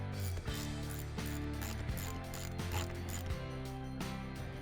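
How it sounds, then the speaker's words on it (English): A hand ratchet with a 17mm socket tightens a shock bolt on a mountain bike linkage shock, giving close, steady rapid clicking in repeated strokes with brief pauses between swings. "Go ahead and use our ratchet in the 17mm socket. And we're going to tighten this"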